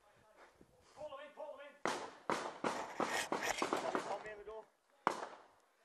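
Gunfire during an Afghan firefight, a series of sharp, loud cracks and bangs in irregular bursts, close by, mixed with shouted voices talking over and between the shots.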